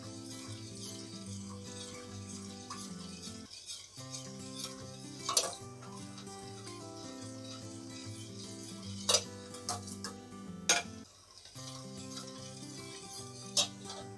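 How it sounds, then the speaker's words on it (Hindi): Ground spices sizzle and fry in a small amount of hot oil while a spoon stirs steadily, scraping the pan with occasional louder clinks, for a chicken korma; close and continuous, no talking. "मसाले हमारे थोड़े से तेल में होंगे"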